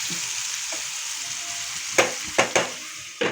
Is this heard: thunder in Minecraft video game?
no